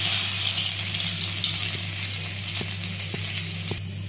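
Crushed garlic cloves, still in their skins, hit hot oil with a five-spice tempering for masala bhindi, a loud, close, continuous sizzle and crackle with a few faint clinks of stirring.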